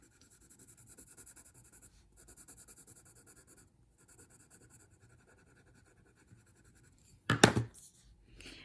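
A pen scratches steadily across paper while a Zentangle Tripoli pattern is drawn, a close, continuous soft scraping in short strokes, with a sharp louder rustle of the paper near the end.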